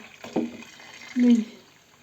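Juice is poured into a cherry wine mixture and stirred, giving two short liquid bursts, a brief splash near the start and a louder, steadier pour a second later, close by and alone.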